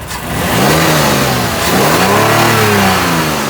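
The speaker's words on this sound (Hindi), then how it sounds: "ये हमजा भाई हमारे रैफ करने जा रहे हैं।" A 2020 Lexus RX350 engine in Dubai revs up loudly from idle in two rising and falling surges, close and alone without talk.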